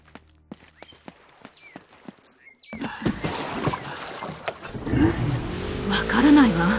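A car engine starts up in Uncharted: Drake's Fortune, driving through a jungle village after a few sharp clicking footsteps; the motor rumbles and revs steadily, growing louder toward the end, with faint voices mixed in.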